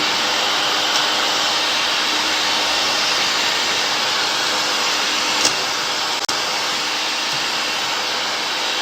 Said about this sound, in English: I'm just going to start whisking it for around 2 minutes